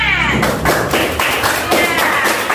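A classroom of schoolchildren claps together in a steady rhythmic pattern, each group of claps landing as a sharp burst about twice a second, close and loud, with a voice heard faintly alongside.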